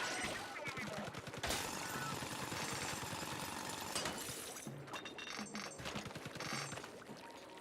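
Rapid mechanical rattling and crunching of drilling down through the ground in the video game Splatoon Raiders, with bursts of breaking and shattering debris that start and stop in clusters.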